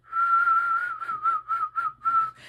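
A person whistles a clear, close tone, first one long sustained note and then a run of short separate notes in an uneven rhythm.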